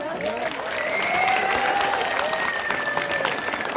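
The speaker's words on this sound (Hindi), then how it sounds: "अगर आपको प्रोग्राम अच्छा लगा तो ज़ोरदार तालियां और तेज से होटिंग करिए।" Audience applause and hooting at an annual school day celebration, steady crowd clapping with whistles and whoops rising over it, moderately loud throughout.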